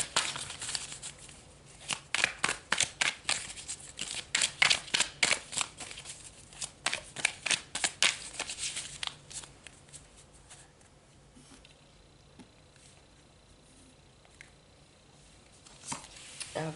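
Tarot cards are shuffled for an Aquarius love reading. Close, sharp slaps and riffles come in a quick irregular run that thins out and fades into quiet near the end, with no speech.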